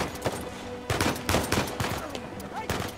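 Dense gunfire from the Uncharted 4 video game: rapid bursts of shots crackle over a busy mix of game sound effects, loud and sustained throughout, with a few heavier impacts standing out.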